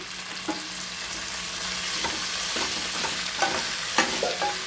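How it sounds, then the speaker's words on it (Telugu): Washed curry leaves fry with coconut in a pan, producing a steady close hiss of sizzling oil with intermittent spatula scrapes and light taps, and no one speaking. "ఇప్పుడు మనం ముందుగా కడిగి పెట్టుకున్న కరివేపాకు వేస్తున్నాం."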